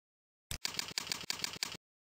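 Keys on a computer keyboard are typed as a shop name is entered during a PrestaShop installation, heard as a short burst of quick, close keystrokes in a few clustered runs with no talking.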